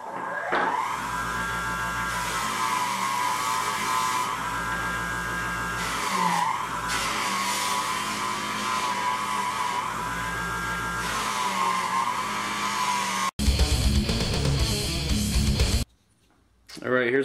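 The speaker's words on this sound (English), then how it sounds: "I'm going to take these to my buffing wheel on my bench grinder and buff these out." Knife handles buffed on a bench grinder buffing wheel: a steady loud motor whine with the pitch dipping as pieces are pressed against the wheel, then a burst of different noise and a short pause near the end.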